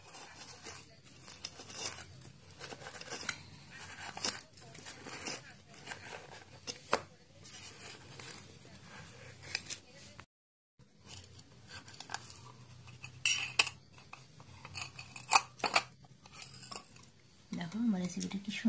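Knife or spoon cutting and scraping a steamed semolina snack inside a metal bowl, with repeated close clinks and scrapes of utensil against the bowl, a brief pause midway, and quiet kitchen handling throughout.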